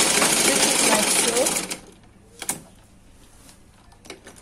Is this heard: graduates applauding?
no